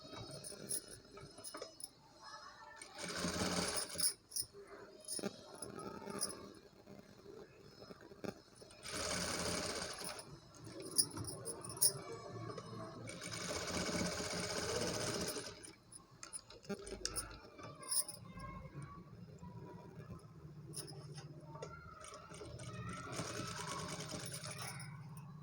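A sewing machine stitches a blouse for a 10 to 11 year old girl, running in steady close bursts with brief pauses between seams and a fast rhythmic mechanical clatter throughout.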